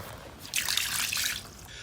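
Water trickling and dripping from a burst pipe onto standing water in a living room, a soft, steady splashing patter that swells midway and continues, fairly faint, with no one talking.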